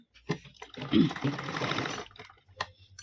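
A sewing machine stitches a trouser side pocket in a steady run of about a second and a quarter, moderately close, with a short start beforehand and brief handling noises after.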